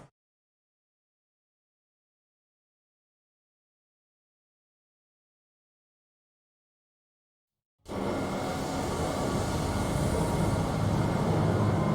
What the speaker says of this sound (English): This train is inbound